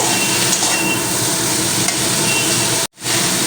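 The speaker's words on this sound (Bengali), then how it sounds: "কুমড়ো ডাঁটাগুলো দিয়ে একটু নাড়াচাড়া করে নেব" Pumpkin stems stirred in a frying pan for a Bengali chorchori, giving a steady loud sizzle with scraping stirs throughout, and one brief break near the end.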